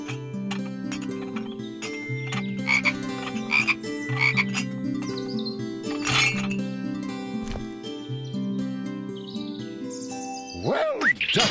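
Cartoon frogs sitting between pots puff out their cheeks and croak in layered, tonal, repeated calls that carry through the scene. Chirpy clinks and a rising whistle-like sweep join near the end.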